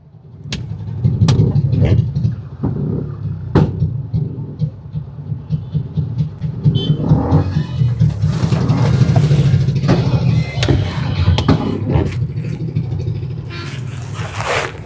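Traffic jam on an Indian road with Bullet motorcycles: a continuous low rumble of idling and crawling engines, near and fairly loud, with scattered clicks, rattles and brief horn-like bursts through the jam.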